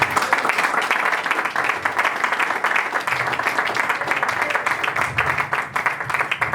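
A church congregation applauds during an evangelist's sermon, steady dense clapping sustained throughout with no break, fairly loud and close, with some voices mixed in.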